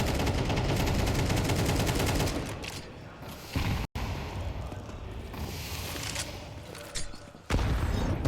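Grenades and gunfire from a Counter-Strike match on the Inferno map: dense rapid bursts of shots crackle, then heavy booming detonations and more scattered firing follow, with a brief dropout midway and faint commentary-like voices underneath.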